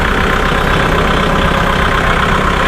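Steady, loud 55 HP tractor diesel engine idling close by, a constant rumbling drone with no pauses.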